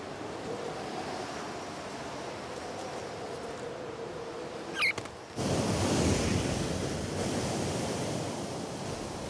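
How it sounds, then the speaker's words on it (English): Gale force winds and surf roar at sea level on a coast battered by cold fronts, a steady dense rush of wind and breaking waves that swells louder about midway through. "Down at sea level, the cold fronts bring gale force winds, great for surfers, but treacherous for almost anything else."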